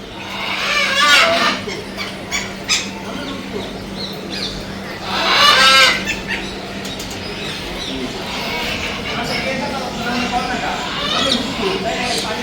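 Caged birds kept outdoors at a Sharjah bird and animal market call constantly, with pigeon-like cooing and bursts of sharp chirps, while people talk nearby.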